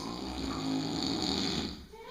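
A pig snores close by in a steady, rasping drone that holds for most of the moment, then fades away near the end.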